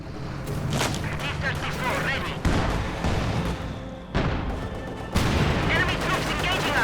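MG42 machine gun fire in the Company of Heroes 2 video game, with loud rattling bursts and dull booms in a dense, continuous battle mix, broken by a few abrupt shifts in the soundscape.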